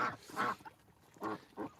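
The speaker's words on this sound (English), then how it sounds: "There is Appleyards, Buff Orpingtons, and Kona ducks, and one Pekin." Egg-laying Appleyard, Buff Orpington, Kona and Pekin ducks quack nearby in two separate pairs of raspy calls, with quiet gaps between them and no talking.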